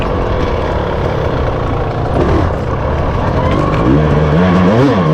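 Dirt bike engine in a hard enduro race at Monkey Wrench, a loud, steady engine roar with rising and falling revs toward the end, near and continuous.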